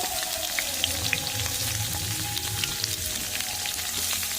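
Cucumber, pumpkin and potato pieces sizzling in hot oil in a pan, a steady soft frying crackle with scattered pops, close and fairly quiet, no talking.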